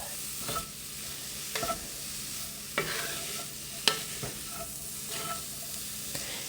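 Pot pie filling with thyme cooks in a skillet, a constant gentle sizzle broken by repeated spoon scrapes and light knocks as it is stirred, close and moderate in level.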